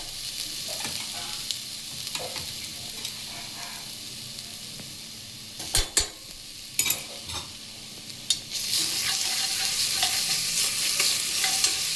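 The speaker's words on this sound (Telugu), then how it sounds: "ఇప్పుడు ఇది ఇలా వచ్చాక నేను అల్లం చిన్నప పేస్ట్ అయితే వేస్తున్నాను." Ginger garlic paste frying in a pan and being stirred with a spoon, a continuous sizzle under scraping stirs with a few sharp clanks at the midpoint, the frying swelling louder and hissier toward the end.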